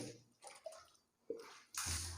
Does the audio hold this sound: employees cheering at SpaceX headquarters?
no